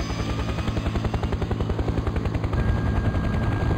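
Helicopter lifting off in Farming Simulator 2015 while hauling a tractor: a steady, loud rhythmic rotor chop with an engine drone underneath, continuous throughout and growing slightly heavier near the end.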